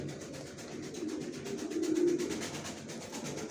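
Racer pigeon chicks and adult pigeons coo softly in a loft, a low steady murmur of overlapping calls with no talking.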